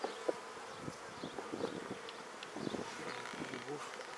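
Honeybees buzzing in a steady, moderately close drone while a hive that gave up bees in a split is opened for its first inspection, with occasional soft knocks and handling noises over the top.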